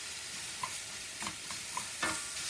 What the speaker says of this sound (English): listen to that nice sizzle